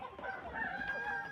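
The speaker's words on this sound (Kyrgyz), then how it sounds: "1000дей тооктор бар экен" Chickens and roosters at a resort farm holding about a thousand birds cluck and crow together in a dense, continuous flock chorus, moderately loud and close.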